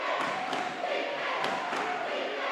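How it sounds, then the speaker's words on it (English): Basketball crowd roaring loudly in Key Curry Coliseum during an EMCC vs. Holmes men's game, a steady dense wall of cheering and shouting with a few sharp accents, sustained throughout. "Crowd getting loud here"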